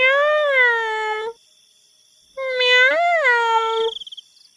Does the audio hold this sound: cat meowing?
yes